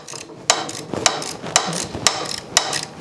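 A socket wrench ratchets close up while loosening a bolt on an Ariens snow blower, giving a series of about six sharp, evenly spaced clicks against faint background noise.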